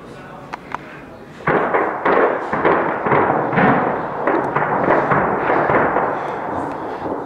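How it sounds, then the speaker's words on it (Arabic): Barrel-bomb strikes dropped by MiG aircraft on the town of Sheikh Miskin in Daraa: a sudden loud blast followed by a sustained, booming rumble with further thuds, while people shout nearby. "طيران ميغ يقوم قصف المدينة."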